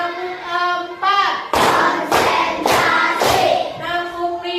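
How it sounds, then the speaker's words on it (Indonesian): A classroom group claps a spirited rhythmic chant, four loud broadband clap bursts in steady succession, with a teacher's voice talking in between and around them. "kita tepuk semangat terlebih dahulu, ya. Tepuk 1, tepuk 2, tepuk 3, tepuk 4"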